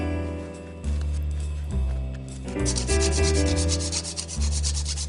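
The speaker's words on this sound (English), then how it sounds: "Grate over some fresh nutmeg" Fresh nutmeg is grated, heard as close, steady rasping strokes over a sustained low background tone, with no talk.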